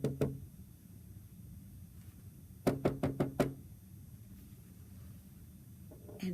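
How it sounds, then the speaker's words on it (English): Knuckles knock on a door twice at the start, then a quick series of five raps follows midway and one more knock comes near the end, all crisp and close in a quiet room. "she came to Grandma's house and she knocked"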